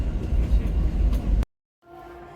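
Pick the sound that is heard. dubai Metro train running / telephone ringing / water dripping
dubai Metro train running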